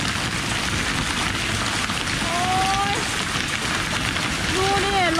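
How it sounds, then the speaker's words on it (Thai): Heavy rain mixed with large hailstones pours in a dense, hissing roar with rattling impacts, while someone speaks excitedly in Thai over the downpour. "ลูกเห็บตกค่ะ ตกมาลูกใหญ่มากมากับฝนค่ะ"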